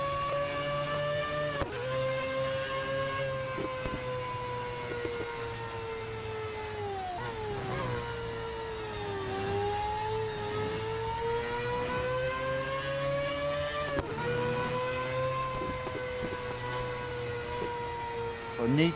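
A Mazda 787B race car in Real Racing 3 at Le Mans screams with its engine at high revs, its pitch sweeping up through the gears and dipping sharply at two gear changes, loud and continuous.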